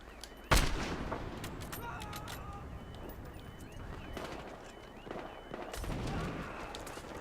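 A sharp rifle shot from an M98B in the Battlefield Hardline multiplayer game cracks out early, followed by fainter distant gunfire and bursts over a steady game ambience.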